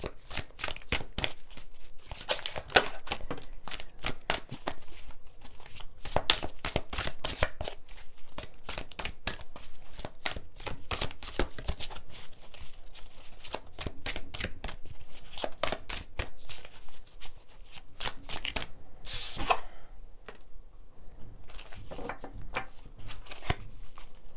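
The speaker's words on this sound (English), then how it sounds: "Starting out with the John Holland Oracle deck." A John Holland Oracle card deck is shuffled over and over, producing rapid, crisp riffling bursts and flutters close by, repeated in quick uneven runs with short pauses between.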